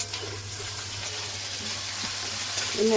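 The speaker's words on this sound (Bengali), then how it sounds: "সবজির সঙ্গে মশলাটা সুন্দর করে মিশিয়ে নেব।" Vegetables and spice paste being stirred in a pan for Bengali shukto, a steady soft sizzle with faint scraping, close and continuous with no talking.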